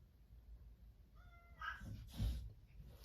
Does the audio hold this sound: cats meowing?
yes